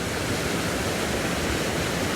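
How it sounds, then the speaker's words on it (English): Small vertical waterfall at a landscape photography spot, its water pouring in a steady, dense broadband rush that stays constant and close throughout with no other sounds. "a nice little vertical falls right in front of me"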